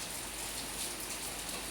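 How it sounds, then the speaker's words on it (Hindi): Heavy monsoon rain pours down steadily under dark clouds, a dense continuous hiss of drops on surfaces with no voices. "ये देखिए, झमझम झमझम बारिश हो रही है"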